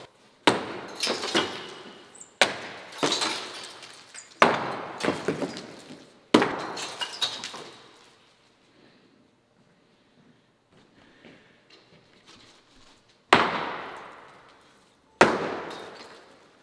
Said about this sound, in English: going at it with the sledgehammer right now